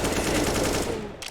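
Rapid gunfire in a first-person shooter game during a grand-final match: a dense, loud burst of automatic shots that fills the moment and then cuts off abruptly.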